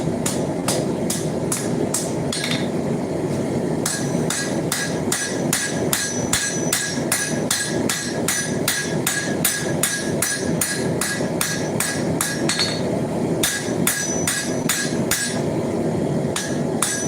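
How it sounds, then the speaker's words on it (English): A power hammer pounds a horseshoe being forged into a knife, delivering loud, rapid, evenly spaced blows in long runs, with short pauses before the pounding resumes. "Then we're going to go over the power hammer"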